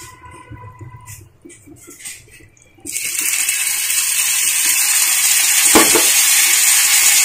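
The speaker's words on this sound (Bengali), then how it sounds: "তেলটার মধ্যে বাগারটা দিই।" Tempering spices hit hot oil for mashkalai lentil dal, bursting into a loud, steady hiss and sizzle after a quieter opening that continues unbroken to the end.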